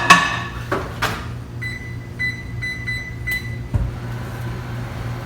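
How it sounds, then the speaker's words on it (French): A microwave oven is set to two minutes and started, with a few knocks and door or keypad clicks, then a series of short electronic beeps and a steady hum that runs on close by. "Bon, allez, 2 minutes au micro-ondes et on va voir"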